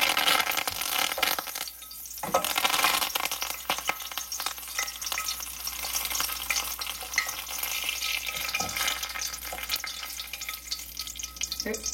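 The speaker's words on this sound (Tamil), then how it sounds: "ரெண்டு கொத்து கருவேப்பிலையை சேர்த்து அப்படியே எண்ணெயில் போட்டு" Two sprigs of curry leaves hit hot oil while a Tamil mixture snack is being made, giving a dense, continuous crackling sizzle that stays loud throughout with no talking.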